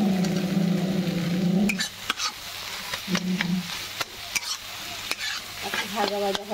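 Egg bhujia sizzles in a pan while a spatula stirs and scrapes it in uneven bursts, with sharp clicks against the metal over a constant low frying hiss, close up and without talk.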